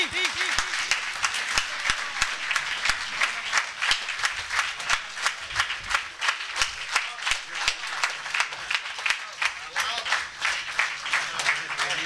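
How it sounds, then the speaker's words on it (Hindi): An audience applauds to welcome Colonel Abdul Jabbar Bhatti, dense continuous clapping filling the room from start to finish, with a voice heard faintly over it early on. "तालियां नाल इस्तकबाल करो कर्नल अब्दुल जबार भट्टी"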